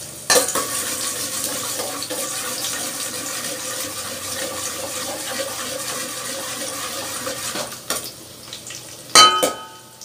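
Garlic fries in cooking oil in a pan for sinigang with tanigue fish head, giving a steady, even sizzle for several seconds. A few clinks and clatters of utensils follow near the end.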